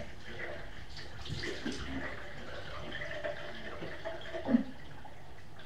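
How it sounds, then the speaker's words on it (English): Water from a running sink tap splashes as hands scoop it onto a face, a steady rushing flow with soft splashes and a brief louder slosh near the end. "I just take my hands and shove the water in my face."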